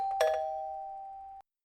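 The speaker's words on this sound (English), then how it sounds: "who's this ringing that bloody doorbell again?" A single electronic doorbell chime rings once indoors, a bright tone that sustains and fades before cutting off cleanly, with nothing else around it.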